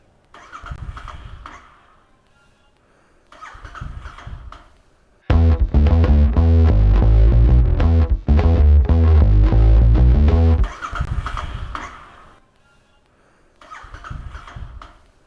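A Royal Enfield Interceptor 650 motorcycle engine cold-starts with a loud burst of uneven, rough running and revving for several seconds, bracketed by quieter intermittent cranking or sputtering attempts before and after.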